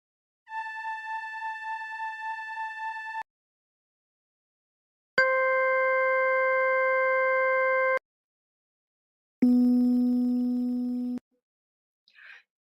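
Three separate synthesized tones generated in Excel play one after another, each steady and held for a couple of seconds with silent gaps between, then a brief faint blip.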